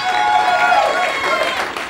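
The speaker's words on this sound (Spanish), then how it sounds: "Este es el aplauso para Amanda Miguel" An audience applauds Amanda Miguel in a television studio, a brief, dense burst of clapping from a crowd that stays steady and fairly loud throughout, with voices mixed in.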